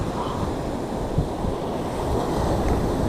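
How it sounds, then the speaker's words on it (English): Sea waves crashing against a wall at South Beach, Great Yarmouth: a continuous loud roaring surf wash with heavy wind buffeting the microphone, swelling slightly toward the end. "waves behind her were crashing against the wall"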